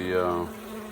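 Close, droning buzz of honeybees around an opened queen cage in the first half second, sliding slightly downward in pitch, then fading to a faint hum.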